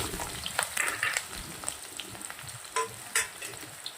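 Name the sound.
carrots frying in hot ghee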